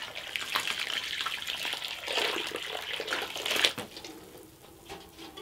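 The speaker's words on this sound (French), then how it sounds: "Il va falloir mouiller un peu tout ça." Water pours steadily onto bought potting compost being mixed for seed sowing, a continuous rushing splash for several seconds that then cuts off, leaving a quieter trickle.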